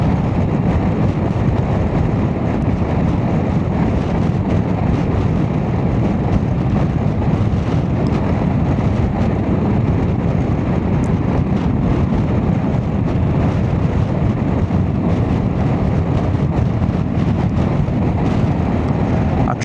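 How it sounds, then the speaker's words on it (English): Strong side wind roars steadily against the microphone throughout a Honda ADV350 scooter ride, a loud, continuous buffeting rush with no break. "It's quite a strong side wind this morning"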